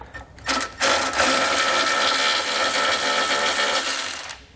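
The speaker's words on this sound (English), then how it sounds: "We'll remove that with a 12 millimeter socket." A bolt is removed with a 12 mm socket while installing a trailer hitch receiver on a 2017 Nissan Pathfinder, giving a steady, loud mechanical whir of a powered tool, running nearly continuously for several seconds, close up and without talk.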